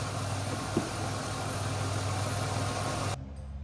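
A 2005 Chevy Equinox engine idles with a steady, low, even hum for about three seconds, then is switched off and drops abruptly to near silence.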